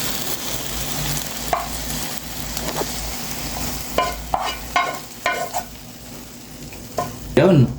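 Alugbati (Malabar spinach) stir-fried with garlic in a pan, a steady sizzle with repeated scraping stirs and clanks of the utensil, close and fairly loud, no talking.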